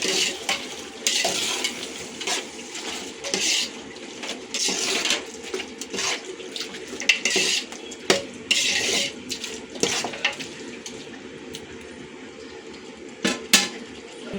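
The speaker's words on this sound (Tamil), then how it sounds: "இஞ்சி பூண்டு பேஸ்ட்டு சேர்த்து இதில் மிக்ஸ் பண்ணலாம்." A spoon stirs ginger garlic paste into mutton biryani masala in a pot, giving steady scraping and clinking strokes over a continuous sizzle of frying, close and fairly loud with irregular sharp metal taps.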